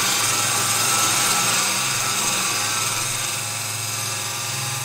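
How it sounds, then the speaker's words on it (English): Wood lathe turning a workpiece while a skew chisel is held flat as a scraper, giving a steady, loud broadband hiss and whir throughout with no talking. "I use my skew as a scraper"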